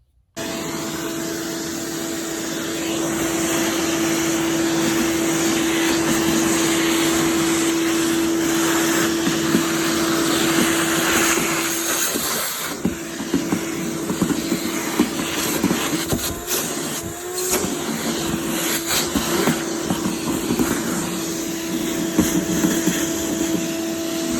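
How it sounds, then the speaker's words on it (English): A vacuum cleaner running over a freshly scraped wooden door before painting: a continuous whining drone with a steady tonal hum, interrupted midway by bumps and clatter as the nozzle works into crevices and angles. "At this point, I've vacuumed it after I scraped it"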